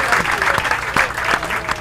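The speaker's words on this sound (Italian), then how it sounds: "un applauso per lui" An audience at a sailing regatta prize-giving applauds in a continuous, fairly close patter of claps that fills the short moment.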